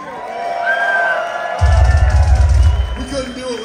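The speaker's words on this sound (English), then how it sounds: "make a round of applause for yourselves" Crowd at a death metal concert in Vancouver cheering and whooping, loud and close, swelling at mid-clip with a heavy low rumble as the room erupts, then tapering to steady crowd noise.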